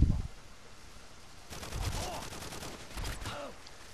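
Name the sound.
Vector gun firing in a video game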